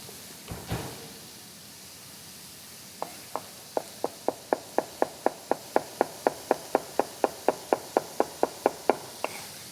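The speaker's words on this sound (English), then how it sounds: "I wanna crush my garlic and give it a quick chop" Garlic is crushed with a dull thump, then chopped on a cutting board with a quick, steady run of about two dozen crisp knife taps, close and alone.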